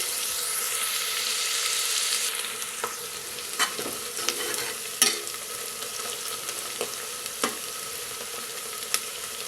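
Sliced onions fry in hot oil with curry leaves in a pan, a steady close sizzle broken by sharp clicks and scrapes of stirring, with no voices.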